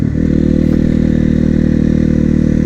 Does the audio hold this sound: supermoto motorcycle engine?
yes